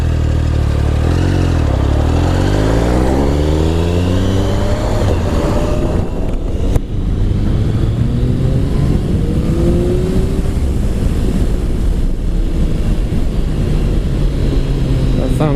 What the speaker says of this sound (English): I'm just going to give it a little blast down the road, see what it's like